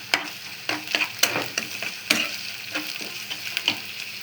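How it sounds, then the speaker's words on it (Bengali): Ginger-garlic paste and cumin paste frying in a pan, a steady sizzle broken by repeated sharp clacks of a spoon stirring against the pan, close and fairly loud. "এই যে আদা রসুন বাটা দিয়ে দিলাম, জিরা বাটা দিয়ে দিলাম,"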